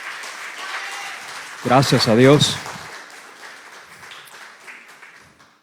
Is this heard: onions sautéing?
no